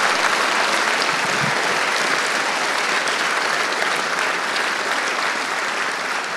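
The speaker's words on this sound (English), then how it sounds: "let's give them all a very big round of applause" Large audience at an American Legion Boys' State event in New York giving veterans a big round of applause, a loud, continuous roar of many hands clapping that holds steady throughout.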